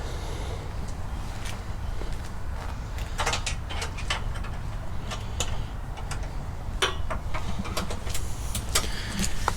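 A wrench tightens bolts on a step bracket under a Jeep Gladiator. The ratcheting gives off irregular metallic ticks and clicks over steady background noise, and the clicks come in faster and denser toward the end.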